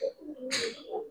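A pair of Kashmiri Huma pigeons, male and female, gives a brief low coo close by, broken by a short rustling burst partway through.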